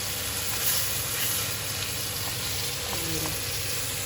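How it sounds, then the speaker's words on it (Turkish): Food frying in a pan in a small amount of oil, mostly olive oil: a steady, close, loud sizzle that runs unbroken throughout. "Hafif yağda zaten kızartıyorum."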